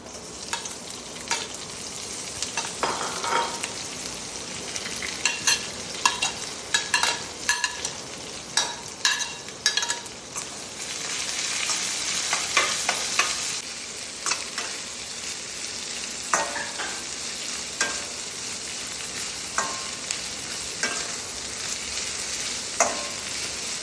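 Onions sizzle steadily in a hot pan while a spoon scrapes and stirs in intermittent bursts, close and clear, with no talking.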